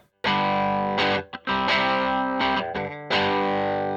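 Distorted electric guitar through an amp miked with only a Shure 57, loud chugging chords with short choppy breaks between phrases, close and dry.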